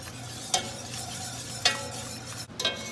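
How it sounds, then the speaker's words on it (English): Cold milk is whisked into a mac and cheese sauce, a soft sizzling bubble under a few distinct whisk scrapes and clinks against the pan, close and fairly quiet, with no voices. "So just whisk real well when you're putting your milk in."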